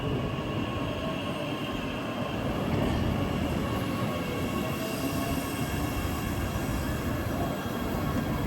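A train rumbles past at a station in Australia, a steady loud roar of wheels on rails with metallic squeal and clatter running throughout, no voices.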